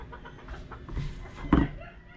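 Backyard hens cluck in short, uneven calls, building to one louder, abrupt squawk before settling, close by and with no talk over them.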